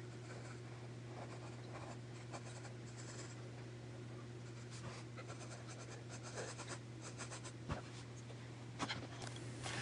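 Pencil scratching and sketching on paper while drawing the Pokémon Yveltal, a steady soft scraping with quick strokes and taps throughout, close and quiet with a constant low hum underneath.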